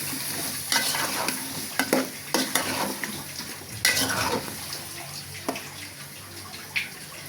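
Vegetables tossed into a pan of fried onion, chili, turmeric and salt, then stirred: a steady sizzle of frying with sharp scraping clatters of a spatula against the pan, near and fairly loud.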